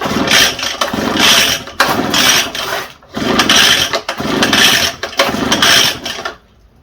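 An ECHO TB580T backpack leaf blower's two-stroke engine fires up and runs loud and close in several bursts, each stretch of roaring engine broken by brief dips before it catches again, then cuts off at the end.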